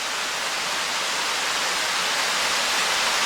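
Scouten Brook Falls, a woodland waterfall, pours in a steady, dense rushing hiss that holds unbroken with no voices.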